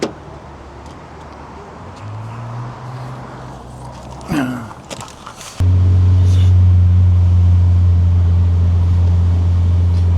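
Sounds of someone getting into a Nissan S15, with rustling and a door thump, then the engine starts and settles into a loud, steady low idle drone.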